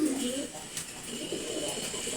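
Male pigeons coo in low, rolling murmurs close by, the calls fading slightly over a couple of seconds against a soft background hiss.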